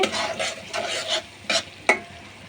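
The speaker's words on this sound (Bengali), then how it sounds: "দিয়ে আমি আবারও কিছুক্ষণ কষিয়ে নিব" Spice masala stir-fried in a pan for a Bengali kaitla fish bhuna, with several distinct scraping strokes over a steady soft sizzle, close and fairly loud, no voices.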